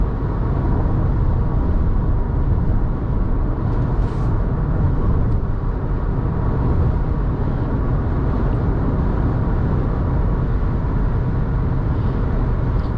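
Steady, broadband road and tire roar fills the cabin of a 2021 Subaru Forester Touring cruising on the highway, a constant moderate hum with no talking.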